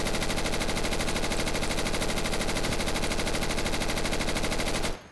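A support-class machine gun in the video game Insurgency fires in one loud, unbroken automatic burst of rapid, evenly spaced shots for about five seconds, then stops abruptly.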